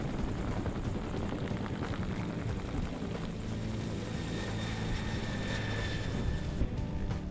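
A helicopter flies continuously close by during a summer adventure outing, its rotor chop and engine roar loud and steady with no voices over it.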